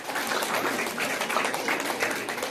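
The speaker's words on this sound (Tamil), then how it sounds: "அவங்களுக்கு ஒரு நல்ல கைத்தட்டல் கொடுத்து வரவேற்கலாம்." Audience at a Pongal debate show applauds to welcome a guest, a steady dense wash of many hands clapping at moderate level throughout, with faint background voices.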